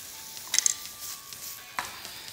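Portobello mushrooms sizzle softly in a pan, a low frying hiss with a couple of brief clinks of a utensil against the cookware, no voices.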